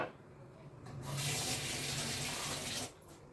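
Water from a tap runs steadily into a sink for about two seconds as hands are washed after a meal of a baked potato and meat tray, loud and close with softer room noise before and after.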